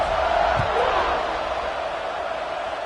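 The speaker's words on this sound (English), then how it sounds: "this crowd is buzzing after that last score" A stadium crowd in the college football video game NCAA 25 keeps up a steady, dense roar and murmur after a score, loud and continuous with no break throughout.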